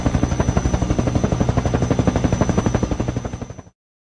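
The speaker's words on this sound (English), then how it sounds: "Helicopter." A helicopter's rotor thuds in a fast, steady pulse with a high whine over it, loud and close, then cuts off abruptly.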